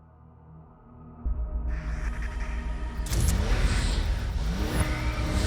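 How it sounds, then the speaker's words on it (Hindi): A car engine starts low, then revs up in stages, growing into a loud, close, sustained roar with rising whine. "किसकी है वो गाड़ी?"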